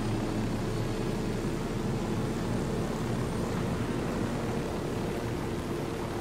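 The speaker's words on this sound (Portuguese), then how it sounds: "Este é um helicóptero um bocadinho melhor." A stolen helicopter flies in the video game Ghost Recon Wildlands on PS4, producing a loud, unbroken engine and rotor roar that stays level throughout with no voices.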